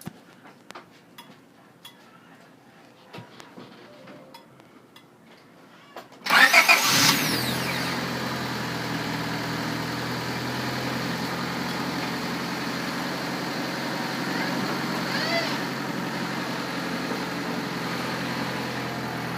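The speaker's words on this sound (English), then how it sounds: "we're gonna go ahead and start the car and see how it sounds" A 1996 Honda Civic, freshly fitted with a new starter, cranks briefly and fires up, then settles into a steady, even idle; faint clicks and handling noises come before the start.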